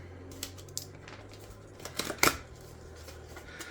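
Box packaging for a Fenix TK28R flashlight has its seal cut, making a few short snips and rustles close by, with one sharper crisp cut near the end.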